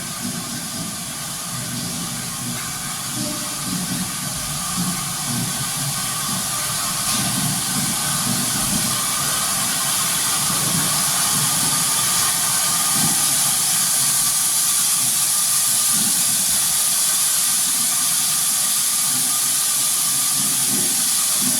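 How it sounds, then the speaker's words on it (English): A steam locomotive arriving in an engine shed hisses steadily inside the enclosed space, with a low mechanical rumble underneath and no talking. "in came said steam engine"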